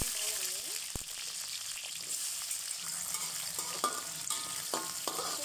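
Onions frying in hot oil with mustard seeds, a steady close sizzle with scattered pops and a few utensil scrapes and clinks, no talking.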